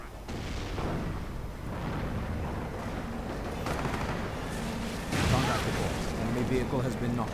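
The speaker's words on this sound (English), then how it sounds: "Sector artillery goes up, stopping any British advance right there" Sector artillery pounds an area in a World War II strategy game, a rumbling wash of distant booms and blasts with a heavier impact near the end, under steady commentary.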